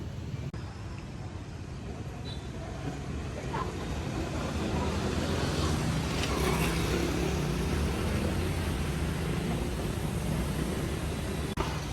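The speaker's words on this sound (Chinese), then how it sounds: "滚的车流啊，车流量是非常非常大啊。" Heavy, congested street traffic in Ho Chi Minh City, Vietnam, makes a dense, continuous roar of passing vehicles that holds steady for the whole stretch.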